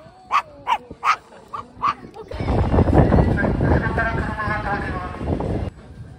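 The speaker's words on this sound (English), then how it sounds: "Oh, what a bark." A dog barks five times in quick, sharp bursts close by on a street in Tokyo, Japan, then the barking stops and louder crowd noise and people talking take over.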